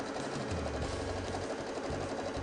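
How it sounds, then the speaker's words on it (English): A sewing machine stitches two sheet-fabric panels together along an edge for a teepee tent, its motor humming steadily and close up for the whole stretch, with low pulsing as the stitching speed shifts. "we're going to sew right along this edge."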